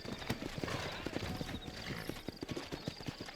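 Horse hooves clip-clopping in Red Dead Redemption, a quick, steady rhythm of close, loud hoofbeats with a whinny and game ambience underneath.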